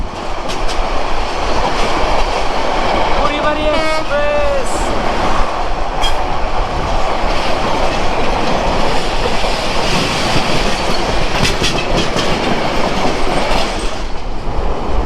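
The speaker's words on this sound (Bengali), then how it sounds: "বিশাল বড় কার্ভ নিয়ে যাচ্ছে আমাদের চিলাহাটি এক্সপ্রেস ট্রেন" An express train rolls steadily along the rails on a long curve with a continuous rumble and clatter, and a brief squealing screech of wheels partway through.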